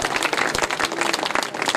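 Dense audience applause rings out at a mushaira poetry gathering in Adawad near Jalgaon, a crowd clapping rapidly and loudly in a continuous burst for the whole stretch.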